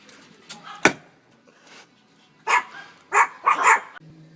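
A dog barks a few times, one sharp bark near the start and then a louder cluster of barks toward the end, fairly close against a quiet background.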